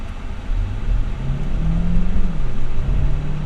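A 2023 Hyundai Tucson Limited Hybrid AWD accelerates at full throttle, its engine note climbing steadily in pitch as a close, continuous whirring rumble that swells louder over a few seconds, with no talking.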